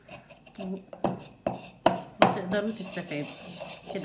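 Vitamin C tablets being crushed by hand: a run of sharp, separate knocks and gritty grinding scrapes close by, with a voice speaking over them.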